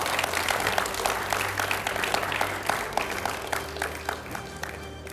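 A television studio audience at a political debate claps in sustained, dense applause, a steady wash of many hands from start to finish.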